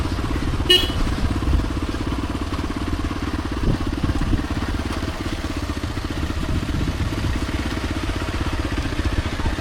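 A motorcycle engine drones steadily while riding in Kannur, Kerala, a close continuous rumble with wind noise and a brief clatter near the start.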